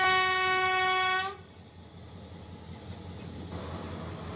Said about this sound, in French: La gare de Colombo s'est réveillée de bonne heure. Il est 6 heures, les trains sont bien là.